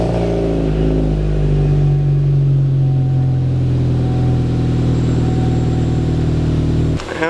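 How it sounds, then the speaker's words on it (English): Car engine cold start, a loud, steady low drone and exhaust rumble that holds at a fast idle for several seconds before a brief clunk near the end. "I think we need to get a little cold start."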